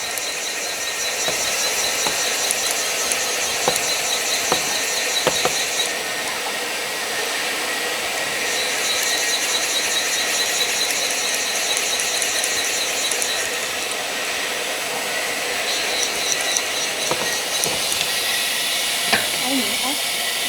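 A CNC machine for cutting door lock holes moves into position with a steady mechanical whir and hiss, punctuated by repeated clicks and ratcheting knocks, under occasional speech.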